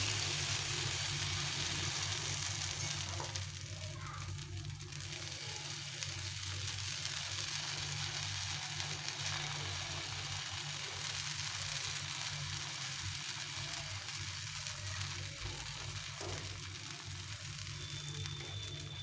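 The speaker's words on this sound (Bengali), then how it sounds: "এখন আমি এটাকে ভেজে নেব।" Chana dal mixture fries steadily in a pan with a low, constant sizzle that holds at one level the whole time, faint under a background hum, no voices.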